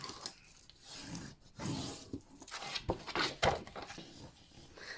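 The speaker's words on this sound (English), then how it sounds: "So if I actually burnish those, you'll be able to see that." Bone folder burnishing freshly scored lines on patterned designer paper for a ribbon-closure gift box, heard as close, dry rubbing strokes in short bursts with brief pauses between.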